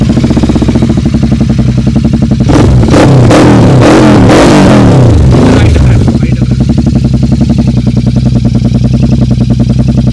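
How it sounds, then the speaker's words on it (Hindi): A Royal Enfield Interceptor 650 idles with a loud, close, steady thumping exhaust, then revs in a few sharp throttle blips before settling back to idle. "एक बार इसका एग्जॉस्ट नोड भी सुना देते हैं।"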